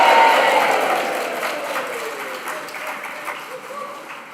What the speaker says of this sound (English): After 3, a big cheer for the class of 2025